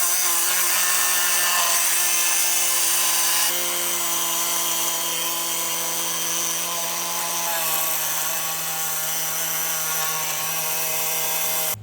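A Dremel rotary tool grinding off a rivet nut on an Evo IX side skirt, a loud, steady high-pitched whine that runs continuously, with a slight drop in pitch partway through.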